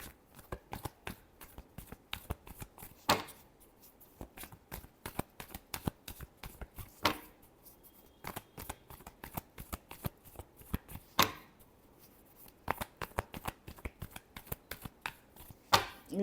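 Tarot cards being shuffled by hand, a long run of quick crisp riffling flicks with a few louder snaps, close and fairly quiet, with no voice over them.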